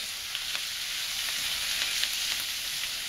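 Cabbage cooking in oil with bacon in a pan, a loud continuous hiss of frying with faint pops and light crackles scattered across the few seconds, no talk.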